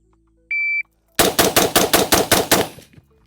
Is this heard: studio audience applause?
no